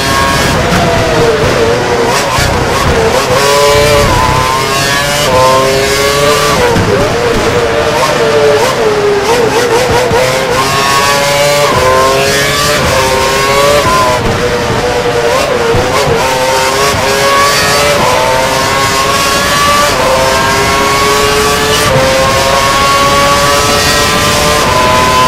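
Race car engines at the Hungarian Grand Prix scream at high revs throughout, pitch climbing and dropping with gear shifts, loud and continuous.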